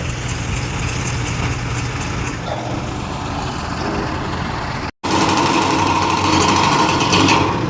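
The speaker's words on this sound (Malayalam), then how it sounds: "ആദ്യത്തെ ടൈറ്റിംഗ് ഒക്കെ കഴിഞ്ഞാണ്ട് ലാസ്റ്റ് ഒരു കംപ്രസർ പിടിച്ചിട്ടുള്ള ഒരു ടൈറ്റിംഗ് ആണ് ഇപ്പോൾ നടന്നുകൊണ്ടിരിക്കുന്നത്" A tractor-powered air compressor running while girder bolts are tightened on a highway bypass construction site, giving a steady loud engine drone that cuts out for an instant and then resumes slightly brighter.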